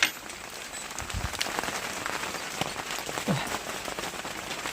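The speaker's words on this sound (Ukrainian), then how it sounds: "Пішов дощик." Rain patters steadily on a surface, a dense continuous hiss with scattered sharper drops, fairly soft and unbroken throughout.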